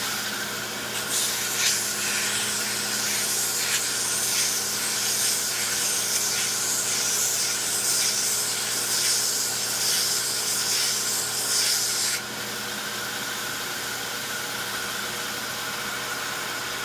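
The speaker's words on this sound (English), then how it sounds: "So we'll just kind of rough round it down, taper it on the sander here" Power sander rounding and tapering a 3/8-inch square wooden stick in a shop: a continuous motor hum with a loud hissing grind of abrasive on wood for about eleven seconds, then the hum running on alone.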